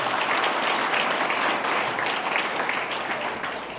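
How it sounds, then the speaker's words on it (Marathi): Audience at a Marathi school alumni gathering honoring Karmaveer Bhaurao Patil applauds loudly and steadily, a dense wash of clapping that fades slightly at the end. "त्यांच्यासाठी जोरदार टाळ्या वाजवा।"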